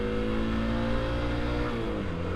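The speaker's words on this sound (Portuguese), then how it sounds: "Neste momento estou montado numa YBR 125" Yamaha YBR 125 motorcycle engine running with the rider aboard, a steady, close, continuous drone with an even pitch and no voices over it.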